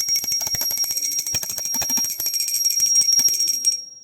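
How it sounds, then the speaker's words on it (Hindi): A small metal prayer bell rings rapidly and continuously during Hindu worship, a bright sustained jingle with a steady shimmering tone that cuts off after about four seconds, close and alone. "अब हमने बजा दी है घंटी,"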